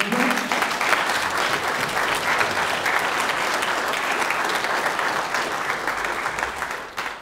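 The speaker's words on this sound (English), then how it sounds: "That was a round of applause for Michelle." Sustained applause from an audience at a business event, dense and steady for several seconds before tapering off at the end, with no talking over it.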